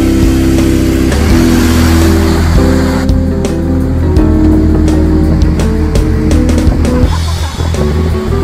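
A car engine rumbles and revs loudly nearby as the vehicle pulls away and accelerates, its steady drone shifting in pitch over several seconds.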